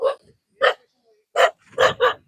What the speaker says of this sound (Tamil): அந்த நாய் என்னை கடிக்கிறதுக்கு துரத்த ஆரம்பிச்சிருச்சு